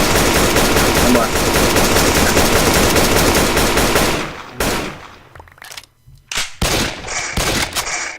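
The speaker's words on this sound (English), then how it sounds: "Ow, he's shooting me!" Gunfire in the video game Rust rattles off as a long, loud automatic burst, then breaks into scattered separate shots after a brief lull.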